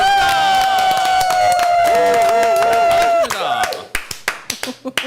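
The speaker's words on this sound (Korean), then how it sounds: "박수로 환영합니다" After a bright studio jingle fades out, a small studio audience on a morning talk show gives a few scattered, uneven handclaps to greet two political guests; the claps are close, sparse and brief.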